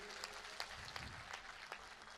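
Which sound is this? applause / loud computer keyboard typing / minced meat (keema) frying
applause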